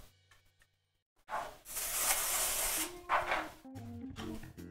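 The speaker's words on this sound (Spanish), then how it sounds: "Voy a poner un poquito de aceite en aerosol." Cooking oil spray hissing from an aerosol can onto a gelatin mold, two bursts of bright close spray lasting about two seconds and then a shorter one.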